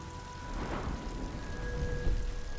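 Steady rain falls outdoors in the Skyrim video game, a soft continuous wash of drops with low rumbling underneath and faint tonal hum, no voices.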